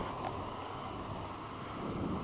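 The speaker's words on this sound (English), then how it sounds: "And sorry for the wind." Wind buffets a microphone during the first snow storm of the year, a steady low rumbling roar that stays at a constant level throughout with no talking.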